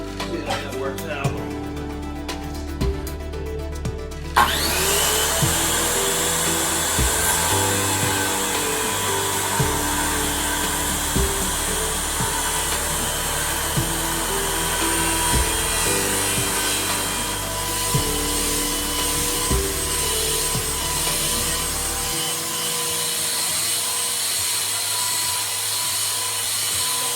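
Sanding of wooden parts for a simple rifle rack, a steady continuous rasping power-sander whir that starts abruptly and runs loud and unbroken for over twenty seconds.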